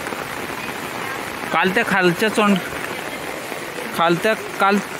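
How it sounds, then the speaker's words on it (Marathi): Steady monsoon rain falls over paddy fields in a Konkan village, a continuous wash of drops heard up close while someone talks over it in short bursts. "आज पाऊस दुपारपासून सतत पडते"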